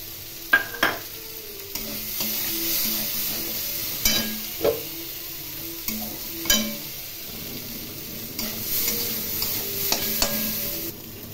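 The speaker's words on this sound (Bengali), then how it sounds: "অল্প নুন দিয়ে ডাল এবং পেঁয়াজ ভেজে নিলাম।" Lentils and onion with a little salt fry and sizzle in a pan, with repeated stirring scrapes and clinks over the steady hiss; no talking.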